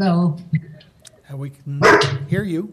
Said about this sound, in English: that was my dog saying hello as well